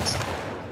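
Gunfire in The Last of Us Part II: a loud, dense burst of shots packed close together at the start, then a steady rumbling wash of battle noise for the rest of a short moment.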